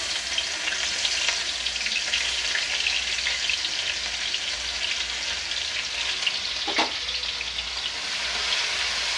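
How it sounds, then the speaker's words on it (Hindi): Onion pieces fry in a pan for bread pakora filling, giving a constant, even sizzle at close range with one brief clink partway through and no talking. "प्याज को थोड़ा सा ला लेते हैं इसे लाल होने तक भुनेंगे अच्छे से"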